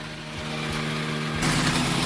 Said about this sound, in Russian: Снова запустил я двигатель.